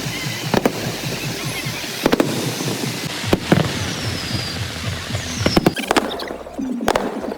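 Fourth of July fireworks display in Vermont, with sharp booms and crackles bursting at irregular intervals over a continuous outdoor crowd murmur.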